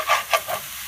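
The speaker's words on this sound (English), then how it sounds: "And if it starts to stick, just go ahead and slightly scrape the bottom of the pan." Spatula scraping the bottom of a pan while Thai mint chili chicken fries over medium heat, three quick rasping strokes close by over a soft sizzle.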